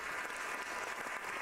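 Steady, dense applause from a live crowd, a continuous wash of clapping with no talk over it.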